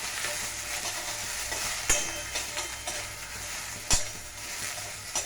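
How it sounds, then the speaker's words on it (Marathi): Capsicum, tomato and paneer sauté in a pan for paneer tikka masala, giving a continuous bright sizzle with a few sharp spatula knocks against the metal and no voices. "त्याचबरोबर शिमला मिरची घालते, टोमॅटो पण घालते. 2 मिनटं आपण परतून घेऊया."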